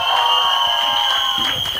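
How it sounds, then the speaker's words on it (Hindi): Crowd cheering and applause at a launch event for a Hindi pop song, a loud, close roar of shouts and claps with a bright sustained tone running through it, brief and dense. "तालियां."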